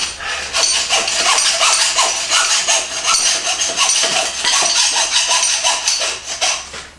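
Hand hacksaw cutting metal during a Kawasaki motorcycle bobber build, a steady rapid back-and-forth rasping of strokes that runs loud and close through the whole stretch with no talking.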